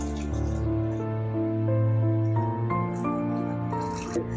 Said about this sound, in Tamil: இப்போ நம்ம தண்ணி விட்டு ஊற வச்சுக்கலாம்.